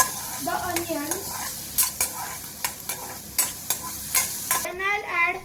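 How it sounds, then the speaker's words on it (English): Chopped onions sauteing in hot oil in a pan for a pizza pocket filling, with a steady sizzle broken by repeated sharp scrapes and knocks of a stirring spoon. "So I'll add a little oil to saute my veggies."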